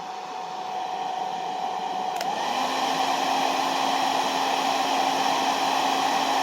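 A hair dryer blows steadily on its high setting, powered by an EcoFlow Delta Pro portable power station, giving a loud, continuous rushing whine that shifts slightly in tone partway through and then holds.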